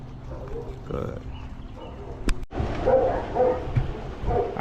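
Dogs bark and yip during a pack introduction on a walk with higher-energy dogs, a few brief barks and whimpers at moderate distance, with someone talking over them.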